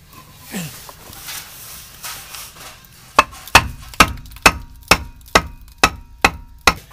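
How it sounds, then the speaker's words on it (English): Nine or ten sharp hammer blows strike a wood block at an even pace, bending a van's exhaust hanger, loud and close, after a few seconds of quiet rustling. "we're going to take this little exhaust hanger and bang it over a little bit"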